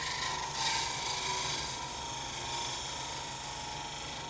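Hand scraper drawn over a wooden workpiece, taking off fine shavings: a soft, continuous hissing rasp, fairly faint and even, with no talking.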